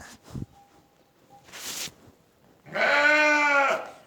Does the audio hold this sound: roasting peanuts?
no